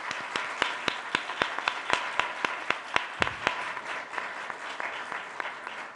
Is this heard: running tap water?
no